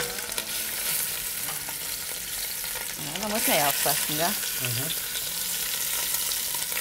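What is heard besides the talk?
lamb shanks searing in a pot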